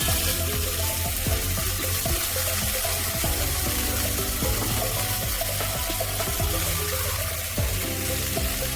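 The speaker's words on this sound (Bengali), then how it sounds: "তারপর আমি এর মধ্যে জল অ্যাড করব।" Water is poured into dhokla batter in a steady, continuous stream that runs the whole time, close and fairly loud.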